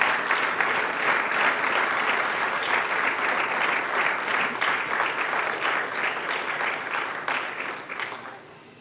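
An audience applauds and cheers at a ceremony honouring the champion Anthony Obame, a dense, steady clapping that carries on for several seconds before fading out at the end.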